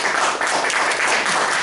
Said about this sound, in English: Please welcome with a round of applause Toastmaster Amitabh Chaturvedi